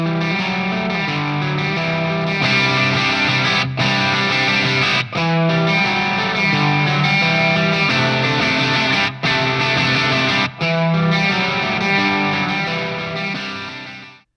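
Electric guitar played through a Marshall DSL20HR amp on its classic gain channel, a loud, crunchy distorted tone with sustained chords and a few short breaks between phrases, alone without talk.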